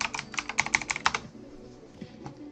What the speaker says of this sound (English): So if we type in something wrong,